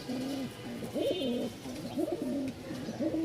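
A male pigeon kept for sale in Mirpur-1, Dhaka, coos in close, repeated rolling phrases that run steadily through the whole stretch, with a faint background hum and no talking.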